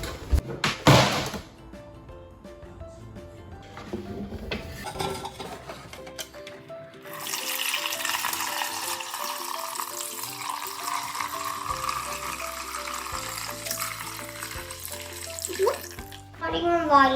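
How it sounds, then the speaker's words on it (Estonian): Tap water runs steadily into a pot for homemade rhubarb lemonade, a loud continuous rush that starts after a few knocks and clatters in a home kitchen, with faint talk and clinks around it. "Nüüd paneme vett."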